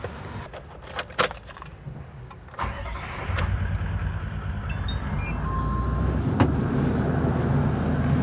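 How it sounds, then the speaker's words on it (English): Keys jangle sharply before a Toyota Landcruiser 78 Series Troopy engine cranks and catches, then settles into a steady, low idle that continues close by. "If I start the vehicle's engine now,"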